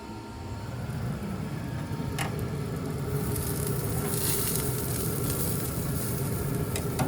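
Steak sizzles steadily on the hot grates of a pellet grill, a dense continuous crackle with a couple of sharp ticks. It grows brighter and hissier about halfway through as the meat is turned onto a fresh spot, with no talking.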